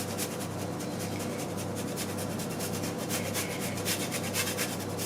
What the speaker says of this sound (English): Grate some Parmesan or pecorino cheese.